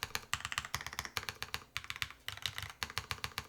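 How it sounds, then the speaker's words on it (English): Rapid mechanical keystrokes clatter on a Lotus80 tenkeyless keyboard with an aluminum plate, a steady close-up run of crisp, chunky clacks with brief pauses between bursts. "Before I do a little typing test on this"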